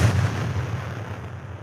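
A deep well impulse response reverb applied in Adobe Audition: a low, booming hit that swells and then decays slowly through a long, dark tail, loud and alone.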